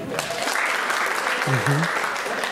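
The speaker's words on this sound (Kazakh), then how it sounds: "Шапалақ ұрайықшы." A comedy audience at a stand-up show claps together, a dense burst of applause in a hall with a voice speaking over it.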